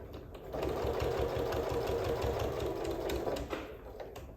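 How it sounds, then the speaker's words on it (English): A sewing machine stitches quilt binding, its needle hammering in a steady, fast mechanical rhythm for about three seconds before slowing to a stop, close and alone. "Sew until you get to 1/4 inch away from the end."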